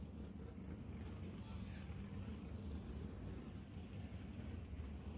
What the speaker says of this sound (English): The signal has been given now and cars are beginning to move